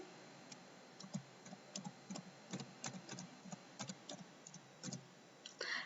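Fingers type a short entry on a computer keyboard, a quick irregular run of light, close clicks and taps, ending in a slightly denser cluster of keystrokes.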